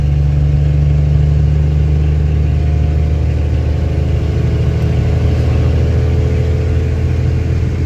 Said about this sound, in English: We weren't the slowest truck up that hill either.